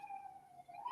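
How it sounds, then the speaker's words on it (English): A distant siren wails faintly, its pitch sliding and rising as it carries from outside. "there's quite a few sirens outside right now"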